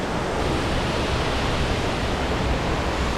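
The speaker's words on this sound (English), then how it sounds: "The roar of the water is just so loud." A large waterfall in remote wilderness roars as a dense, constant broadband rush, loud and close with no breaks and no voices.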